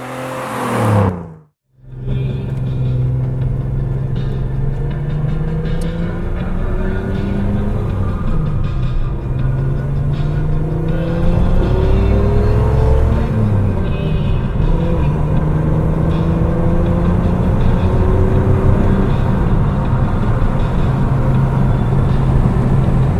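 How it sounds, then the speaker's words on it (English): A 1971 Datsun 240Z drives out on old country roads in Oregon, its engine humming steadily from inside the car with rising and falling tones as it shifts and accelerates, loud and continuous after a brief cut near the start. "here we are driving the 240Z out in the old country roads here in Oregon."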